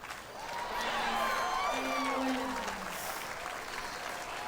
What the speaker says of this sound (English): Cheers from the many Serena supporters in this stadium court crowd